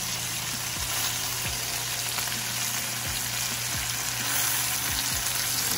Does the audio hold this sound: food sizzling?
yes